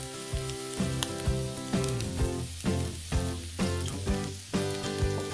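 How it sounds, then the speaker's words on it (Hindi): Onions frying in oil in a pressure cooker over a medium flame, a continuous sizzle under louder rhythmic background music with regular beats. "मीडियम फ्लेम के ऊपर अच्छे गोल्डन क्रिस्पी होने तक हमें फ्राई करना है"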